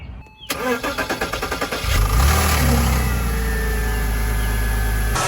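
A Porsche Boxster, just fitted with a new camshaft position sensor, cranks with a rapid starter chatter for about a second and a half, then catches and settles into a steady, close, loud idle.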